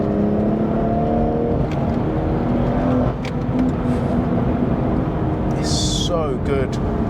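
BMW M240i with its exhaust resonator removed, driving with traction control off, its engine note climbing and falling in harmonic sweeps as it revs through a bend, loud and close, with brief speech over it.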